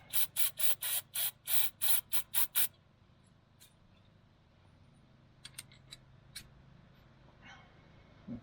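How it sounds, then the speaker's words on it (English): A small piston-style grease joint rejuvenator being worked by hand, with a burst of short, rapid hissing squirts of solvent up front, then quiet with a few faint clicks and taps. "Squirt a little bit of solvent."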